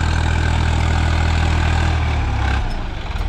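A 2023 Swaraj 855 FE side-gear tractor engine runs at a steady idle, its deep, continuous low rumble close and loud with no talking, easing slightly near the end.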